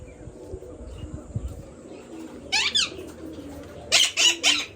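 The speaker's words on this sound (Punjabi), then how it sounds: "ਆ ਕਬੂਤਰ ਮੈਂ ਇੱਧਰ ਛੱਡਤਾ ਸੀ" Flying pigeons, including a red Cheena, coo near a loft in short bursts, a single call followed a moment later by a closer cluster of three, over a faint background hum.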